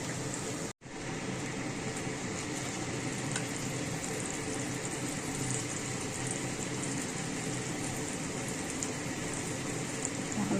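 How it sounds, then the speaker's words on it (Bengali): Flattened rice (chira) deep-frying in a pan of oil makes a steady, close, continuous sizzle and bubbling hiss that runs unbroken throughout, with no voices. "চিড়াটাকে ভেজে নেব ছাঁকা তেলের মধ্যে"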